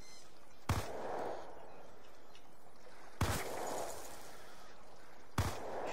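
Three sharp gunshots from the video game Black Ops 2, spaced a couple of seconds apart, each a loud crack with a short ringing tail over steady background noise.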